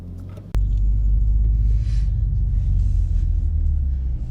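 A manual 2020 Toyota Supra pulls away in first gear, its engine a loud, steady low rumble that starts abruptly after a sharp click and holds close and continuous to the end.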